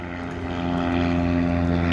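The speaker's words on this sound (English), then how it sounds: "other planes around, there's B-25 in the background." A B-25 twin-engine WWII medium bomber drones steadily at an airshow, its propeller engines making a continuous, loud, throbbing hum that builds slightly over the moment.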